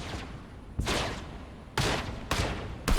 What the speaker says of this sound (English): And then they start shooting.